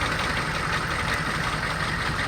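A 2002 Chevy 3500 utility truck with a stake bed and 6.5-litre diesel engine idles steadily, a constant broadband engine drone with no change in pitch or level.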